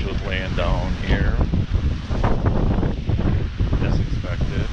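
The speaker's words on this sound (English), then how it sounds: "But man, that was some big wind." Powerful thunderstorm gust-front wind roars in heavy, buffeting gusts against the microphone outdoors, loud and continuous, with someone talking over it.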